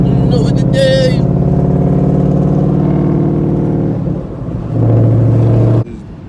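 A 5.0 engine with a fully straight-piped exhaust rumbles loudly with a deep, throaty tone that holds steady and then shifts pitch, as if revving, close by.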